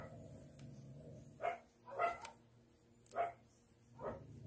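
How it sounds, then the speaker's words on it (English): A dog barks four times at uneven intervals, medium close and moderately loud, indoors with a faint background hum and no talk. "my dog just started barking"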